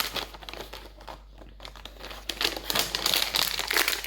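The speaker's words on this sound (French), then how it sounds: "Si j'arrive à ouvrir le sachet qui soi-disant est une ouverture facile comme d'habitude" Someone struggles to open a supposedly easy-open plastic packet of chocolate chips, making close, sharp crinkling and crackling that eases briefly, then swells into louder, busier rustling.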